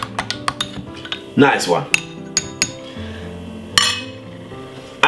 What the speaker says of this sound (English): give it a lovely stir like this.